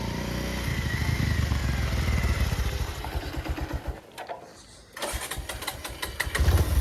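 A motorbike engine cranks and catches, then idles with a steady mid-pitched rumble that drops out briefly before revving back up, loud and close, with no talk over it.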